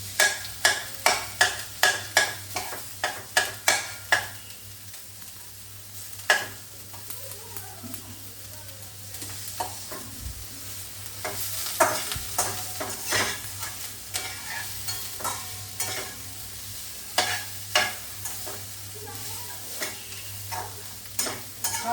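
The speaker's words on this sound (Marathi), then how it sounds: "कांदा वगैरे आता परतायचे" Onions sautéing in a pan for noodles give a constant sizzle, with a quick run of sharp spatula taps at the start and more scraping strokes later.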